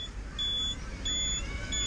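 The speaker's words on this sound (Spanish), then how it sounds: "el ruidecito este, el pitido, creo que es una cosa muy buena para la ciudad" A Lambretta 125 scooter's LED turn signal beeper gives short, evenly spaced electronic beeps over a low engine or street rumble.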